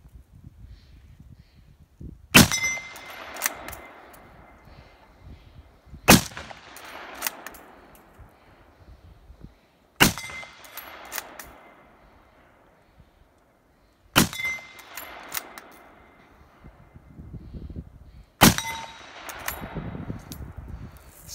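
A VZ. 24 Czech Mauser rifle in 8mm Mauser fired outdoors, five sharp, loud single shots spaced about four seconds apart, each ringing out into a short decay, with bolt handling and rustling heard in between.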